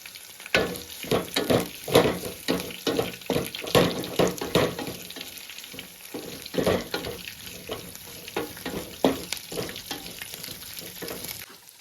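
Dried bamboo shoot curry frying in a pan, with repeated scraping and stirring strokes over a soft sizzle, close and moderately loud, in an uneven rhythm.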